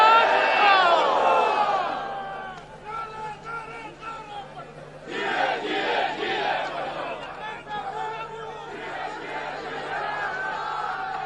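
Large crowd at a Pakistan Peoples Party workers' convention rally in Mardan for Bilawal Bhutto, loud voices shouting and chanting in bursts with cheering, surging again midway and staying busy throughout.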